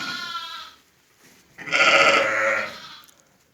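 A lamb on a livestock farm, suffering from orf (ektima) sores around its mouth, bleats twice, a shorter wavering cry followed by a louder, longer one, close by with no talking.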